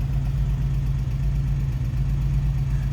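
A 1996 Porsche 911 Carrera with a rebuilt engine idles steadily, giving a loud, close, low-pitched rumble with a constant pulse throughout.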